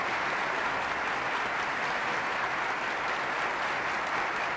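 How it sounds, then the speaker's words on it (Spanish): Deputies and senators on their feet in the Spanish parliament chamber in 1978 give the King sustained, dense applause, an even roar of many hands clapping with no pauses. "Diputados y senadores puestos en pie, aplauden las palabras de Su Majestad el Rey"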